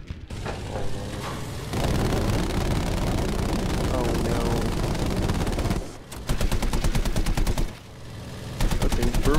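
Heavy Battlefield 5 gunfire: loud, sustained automatic bursts of rapid, evenly spaced shots, broken by short pauses, with a player talking over the firing.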